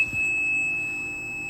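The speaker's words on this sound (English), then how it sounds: "We get audible alarm" A steady high-pitched electronic alarm tone from a Viessmann Vitodens 200W gas boiler, which has cut out, sounds continuously at a constant pitch over a low mechanical hum, with no talking.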